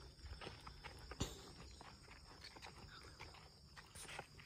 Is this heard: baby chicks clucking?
no